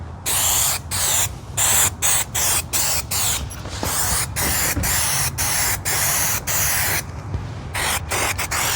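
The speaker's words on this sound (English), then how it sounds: "So I'm gonna spray it on this headliner" Repeated bursts of spray adhesive from an aerosol can onto a Ford Ranger headliner, each a loud hissing blast broken by short pauses, running steadily throughout with no voices.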